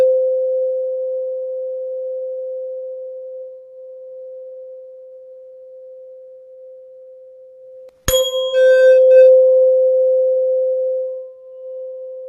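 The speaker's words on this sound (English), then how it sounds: "That is the sound of tuning fork." A 512 Hz tuning fork struck with a rubber pad gives a pure, steady hum that fades slowly, then a sharp strike sets off a bright ring with a brief metallic shimmer before the hum settles loud and sustained again.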